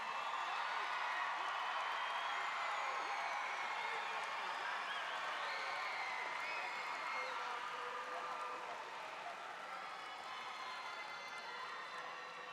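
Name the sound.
arena audience applause for graduates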